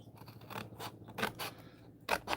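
Scissors snip through cardboard in several short, crisp cuts with a scraping edge, close but fairly quiet, in irregular bursts with small pauses between them.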